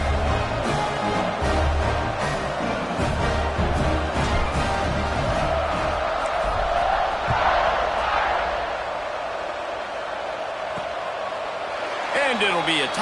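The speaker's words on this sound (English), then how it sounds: "this crowd is buzzing after that last score" A football stadium crowd buzzing after a touchdown at a college game, a loud, continuous roar that swells and fades over the whole stretch, with some thuds and an announcer speaking over it.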